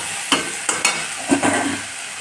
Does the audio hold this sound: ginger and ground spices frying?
yes